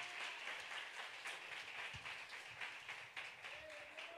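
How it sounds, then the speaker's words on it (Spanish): A church congregation claps for Homo Fuerte during a Spanish-language sermon at Iglesia Jehová Nissi, a soft and fairly distant patter of many hands, with a few individual claps standing out. "Dale un aplauso con todo su corazón a Homo Fuerte."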